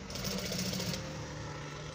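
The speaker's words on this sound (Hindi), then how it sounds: "ये क्योंकि रेशमी धागा है आराम के साथ मैं सिलाई लगा और कॉलर अटैच कर रहा हूँ" A sewing machine runs in a steady mechanical whir as it stitches a collar on with silk thread. The motor drone is strong at first and eases slightly after about a second, with no voices over it.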